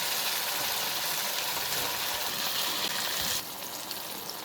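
Sweet suiyam made from idli batter fries in hot oil with a dense, even bubbling hiss that drops a little quieter near the end, no voices.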